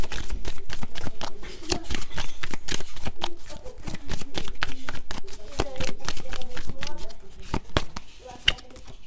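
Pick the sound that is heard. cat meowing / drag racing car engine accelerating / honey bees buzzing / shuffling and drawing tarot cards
shuffling and drawing tarot cards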